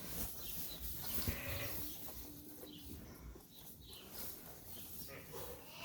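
Sheep on a sheep farm bleating intermittently from nearby pens, soft calls scattered through a faint, noisy barn background with a person speaking quietly among them.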